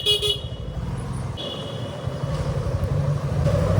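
A road vehicle horn toots repeatedly near a moving truck, with short honks over steady engine and traffic rumble.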